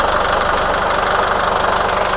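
A secondhand Kubota or Iseki tractor engine idles nearby, a loud, constant, rhythmic diesel knock with a steady vibrating drone and no break.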